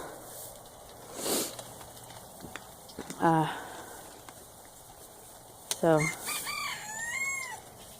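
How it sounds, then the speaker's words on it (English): Chickens cluck in short bursts and a rooster crows twice nearby against a quiet outdoor backdrop, with faint scattered voices. "And there's the chickens. They want breakfast."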